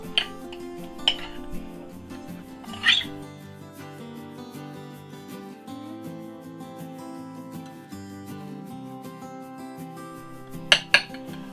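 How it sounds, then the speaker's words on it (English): A batch of cream cheese filling being mixed in a bowl: soft stirring with sharp clinks and clatters of a utensil against the bowl, set over quiet background music. "I'm just going to go ahead and mix a batch of this up and make her a little bitty bowl"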